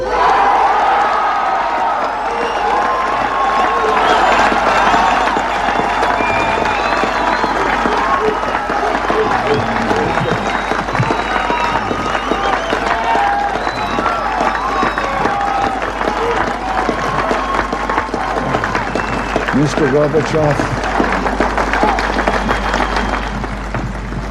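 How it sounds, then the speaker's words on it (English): A large outdoor crowd in Berlin at Reagan's Berlin Wall speech cheers, shouts and applauds loudly and without a break, with voices rising and falling through the roar. "And the crowd, of course, went crazy."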